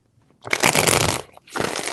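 Tarot cards shuffled by hand in a broadband riffling burst of about three quarters of a second, a short pause, then a second shorter shuffle, close and fairly loud with no voice.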